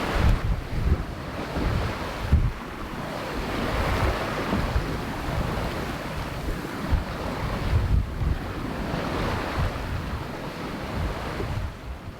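Sailboat gliding off a tropical Caribbean island, waves washing and splashing against the hull under steady gusting wind that buffets the microphone, a continuous rushing roar that swells and eases with no voices.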